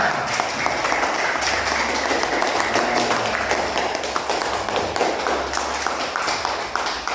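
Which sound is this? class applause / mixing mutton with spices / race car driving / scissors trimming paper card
class applause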